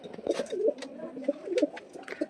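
A pigeon coos in a series of soft, throaty rolling calls, several repeated phrases close by with faint higher chirps between them.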